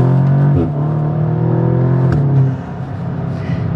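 A stage 2 tuned Audi S3 8V accelerating hard from inside the car, a loud, strong engine note climbing steadily in pitch through the rev range, dropping briefly at a gear change and rising again.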